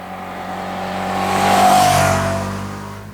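A 2025 Ducati Panigale V2S sports bike engine revs, its roar swelling to a peak midway and then easing off, heard alone without voices.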